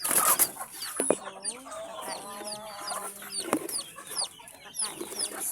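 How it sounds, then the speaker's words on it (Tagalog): Chickens cluck and murmur close by in a farmyard, several birds calling in short, uneven bursts with higher chirps scattered throughout. "So guys, mga manok na ko diri guys."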